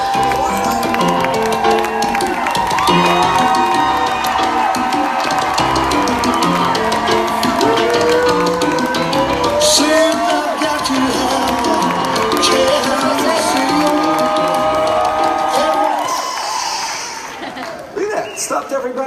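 Audience at a hemp oil talk in Denver cheering and applauding a speaker's introduction, a loud, dense crowd roar with music-like tones running throughout and easing near the end.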